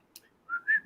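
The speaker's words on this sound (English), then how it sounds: "I can whistle now." A person whistles a short, soft tune of a few rising and sustained notes, close and alone after a brief high hiss.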